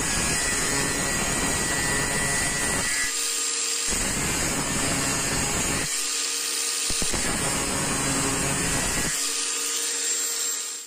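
A small angle grinder fitted with a homemade attachment cuts through a small nail, giving a continuous high, loud whine close by that dips and rises in several surges as the disc bites into the metal.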